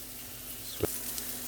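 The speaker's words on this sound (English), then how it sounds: "And I add my cheese to the pan. Okay. Mix it around." Cheese tossed into a hot pan hisses in a soft continuous sizzle, with one brief scrape or clack of stirring near the middle and a faint tap at the end; no one speaks.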